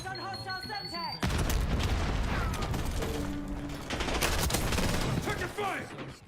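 Sustained rapid gunfire and explosions in a Black Ops 6 hardpoint multiplayer match, loud and continuous for several seconds, with a brief game voice line just before the shooting starts.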